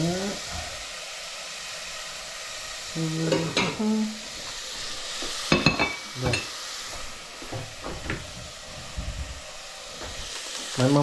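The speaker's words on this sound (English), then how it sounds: "Just give it a stir." Onions sizzle and hiss in a pot of Hungarian mushroom soup while a utensil stirs and scrapes through them in irregular bursts, with brief speech heard nearby.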